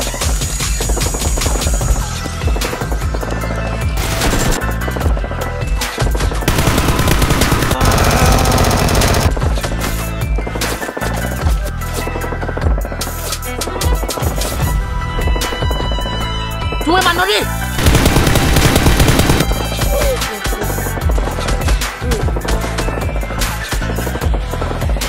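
Rapid cartoon gunfire rattles in loud bursts through a busy animated superhero battle scene, with repeated automatic volleys over music and effects.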